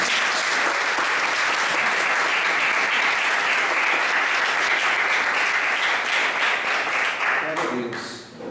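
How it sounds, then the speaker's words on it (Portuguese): Church congregation applauding steadily as a dense, sustained wash of clapping, fading out at the end as a voice begins to speak. "Vamos aplaudir Jesus."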